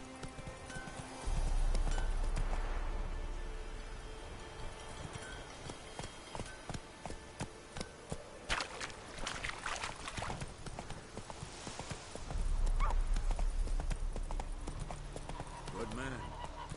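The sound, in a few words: horse Roach galloping in video game The Witcher 3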